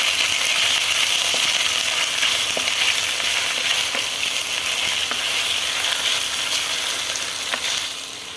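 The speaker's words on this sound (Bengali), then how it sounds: "দেখুন, আদা আর সব মশলাগুলো ফ্রাই হয়ে গেছে" Ginger paste and spices frying in a pan for a vegetarian doi paneer, giving a steady, close sizzle with faint scraping stirs at intervals and no talk.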